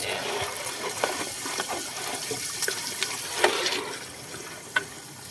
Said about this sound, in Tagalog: Dagdagan natin tubig konti